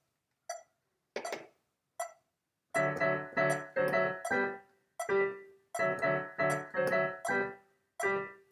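Piano plays the first two measures of a video game theme, starting with three sparse clicks of a metronome, then short, bouncy repeated chords in strict tempo with brief gaps, clear and close with no talking.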